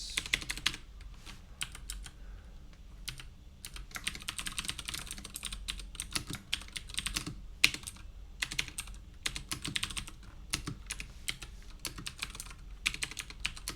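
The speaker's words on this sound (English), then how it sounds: "I'm switching keyboards, so I'm, like, typing the wrong keys." Rapid typing on a computer keyboard during game coding, with dense, irregular clicking key strikes and brief pauses, close and moderately quiet.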